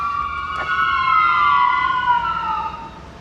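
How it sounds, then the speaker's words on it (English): A loud wailing siren sweeps slowly downward in pitch, steady and close, with no voices over it. "they just put on the sirens"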